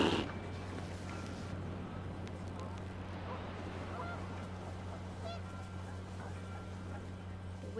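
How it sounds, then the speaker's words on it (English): Wild geese honk in a brief, panicky burst as the wind picks up outdoors, calls layered over steady low rumble and wind noise, with background voices. "The wind picked up and panicked geese appeared and quickly went."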